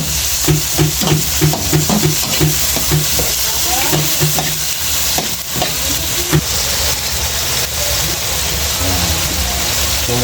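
Chayote frying with softened tomato in a home-kitchen pan, a steady sizzle with stirring and scraping, overlaid by a continuous background hum.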